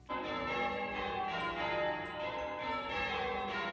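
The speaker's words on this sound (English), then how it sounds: "On the way back, I had the church bells, so beautiful." Church bells peal loudly and continuously on a lovely evening, rich overlapping ringing tones swelling and easing slightly over nearly four seconds, with no talking.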